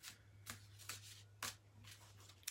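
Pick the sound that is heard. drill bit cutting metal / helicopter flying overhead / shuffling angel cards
shuffling angel cards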